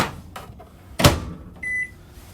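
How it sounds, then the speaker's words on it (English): A microwave oven in a 2022 Jay Flight 264BH travel trailer: a couple of soft clicks, a sharp thump as the door shuts, then a short steady electronic beep from the control panel. "Otherwise, microwave."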